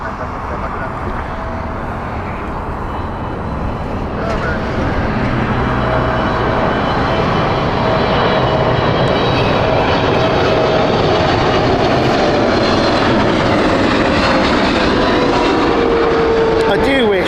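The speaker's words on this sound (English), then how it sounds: "A 12-year-old 777-300 from Air India." An Air India Boeing 777-300, twelve years old, runs its jet engines at a busy airport, a broad steady roar with a faint whine, building slightly in loudness throughout.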